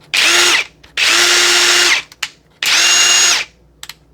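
A cordless 3/8-inch impact wrench spins freely at full speed in three bursts, about a second each, with short clicks between runs and no voices.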